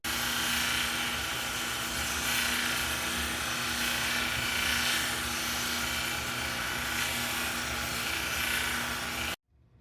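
A Cab-King lapidary machine grinds a Petoskey stone on a flexible resin-backed 280 grit wheel, giving a loud, steady whirring buzz with a faint tonal hum that runs unbroken for nearly ten seconds before stopping abruptly.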